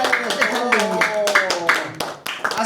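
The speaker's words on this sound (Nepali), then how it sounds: "ताली बजायो सबैले" A small group of people claps in a home gathering, a few bursts of hand claps mixed with a sung or chanted voice over the top.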